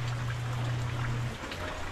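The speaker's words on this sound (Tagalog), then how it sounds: "Sana tumila na yung ulan para makabili tayo ng plastic." Steady rain falls outdoors behind a house during flooding, a constant hiss of drops on surfaces with a low hum in the background.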